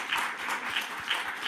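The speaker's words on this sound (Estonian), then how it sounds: "Korraldajatele võib 30-sekundilise aplausi teha." Conference audience applauding the organizers: a steady, moderate patter of many hands clapping in a room, even and continuous with no voices.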